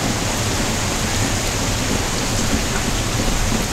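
Heavy rain pours steadily outside during a Wisconsin thunderstorm, a dense, loud, unbroken hiss of falling water with no voices.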